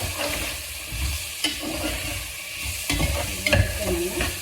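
Carrots and beans being stirred in a frying pan, a steady sizzle broken by several scraping stirs of the spatula, close and clear with no talking.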